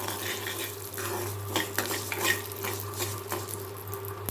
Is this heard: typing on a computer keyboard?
no